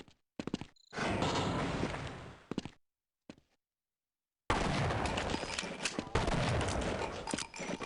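Bursts of gunfire in the video game Half-Life aimed at a box: several short clustered shots, then silence, then two sustained loud volleys of rapid shooting.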